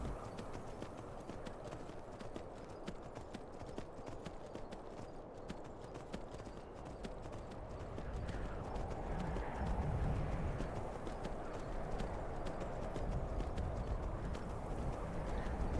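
Steady clip-clop of horse hooves at a riding pace in the video game Skyrim, continuous throughout, with a low rumbling bed underneath that grows a little louder toward the end.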